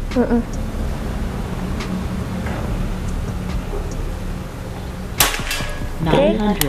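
A single sharp PCP air rifle shot with a slug barrel cracks out near the end, followed by a quick metallic clatter, against steady outdoor background noise.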